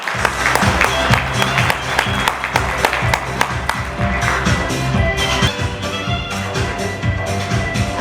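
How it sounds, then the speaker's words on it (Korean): A hall audience at a leadership school event claps to welcome the school's principal to the stage. The loud, crisp applause runs over a low, steady musical backing. "여러분, 박현숙 교장 선생님을 큰 박수로 환영해 주십시오."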